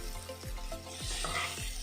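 Ground curry leaf paste for thokku frying in a pan makes a close, continuous sizzle, broken by a few rhythmic scraping strokes as it is stirred, with no voices.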